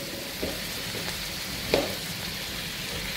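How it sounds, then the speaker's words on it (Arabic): Broad beans stirred into softened onions in a pan for broad bean rice, with a faint continuous sizzle and a few light scrapes, one sharper knock near the middle, with no voices. "بعد ما لان عندي البصل نضيف الباقلة ونظل"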